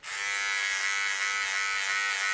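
A Wilkinson Sword electric hair clipper with a 2 mm guard buzzes continuously at close range while trimming hair on a head, a steady high-pitched whir with no voices.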